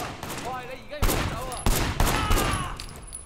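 Gunfire in the video game Sleeping Dogs: several loud, close shots and bursts spread across a few seconds, with a few short whistling ricochet-like tones between them.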